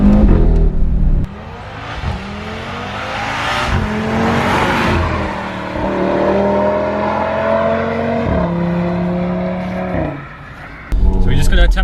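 Audi RS3 with a 2-litre engine revving hard and sharply like a rally car, with rising and falling harmonics through repeated pulls and a loud burst at the end, with someone talking over it.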